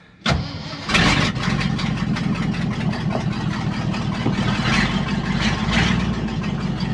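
A Ford F-750 dump truck engine is cranked and fires within a second, revs briefly, then settles into a loud, steady rough idle close by.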